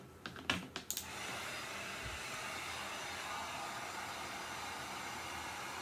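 A heat tool runs steadily, a continuous broadband blowing hiss melting embossing powder on a stamped craft piece, preceded by a few quick clicks and taps at the start, with no talking.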